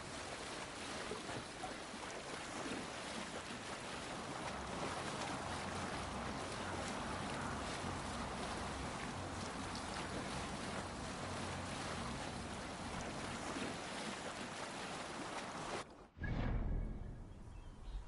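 A Viking longship sails across open sea in Assassin's Creed Valhalla, with a steady, loud wash of waves and wind against the hull that holds throughout and ends in a brief dip and a low thump.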